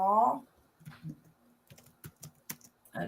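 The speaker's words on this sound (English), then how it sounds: "I'm typing an answer to a question in the chat." Someone types on a computer keyboard in short irregular bursts of clicks close by, after a brief vocal sound at the start.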